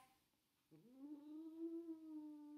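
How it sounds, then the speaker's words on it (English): A pet cat named Ajax lets out one drawn-out, complaining meow that starts abruptly and holds steady, close and fairly quiet in a still room. "my number one cat, Ajax."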